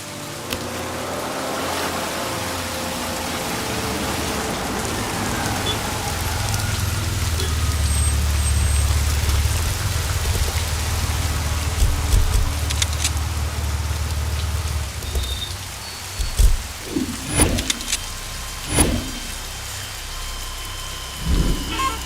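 Heavy rain pours steadily in a movie scene, with a continuous dense hiss, low rumbles of thunder underneath and a few sharp knocks toward the end.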